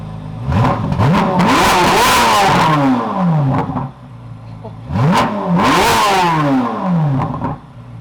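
A Nissan Z fitted with blow-off valves revs hard twice, each loud rising engine sweep falling back with a hissing release, close by and alone.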